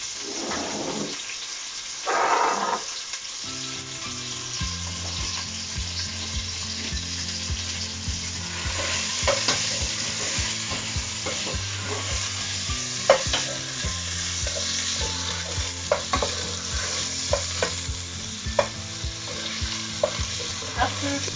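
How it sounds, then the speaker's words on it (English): Sliced onions fry in a pan on a home stove with a steady, continuous sizzle, broken by occasional stirring scrapes and clinks after a brief rustle at the start. "Just a few minutes of the onions on their own, so the garlic will fry very quickly."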